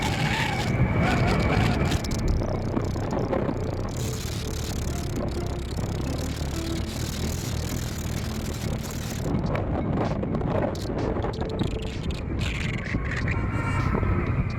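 Honda Activa 6G scooter carrying two riders at over 60 km/h, with a steady roar of wind buffeting the microphone over a continuous engine and road drone.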